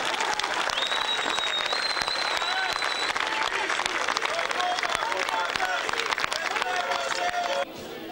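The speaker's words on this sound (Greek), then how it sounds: "Κάτω από παρατεταμένο χειροκρότημα ξεκίνησε την ομιλία του" Prolonged applause from a large crowd at a SYRIZA political rally: dense, loud, unbroken clapping with whistles and cheers mixed in, holding steady for several seconds before dropping off sharply at the end.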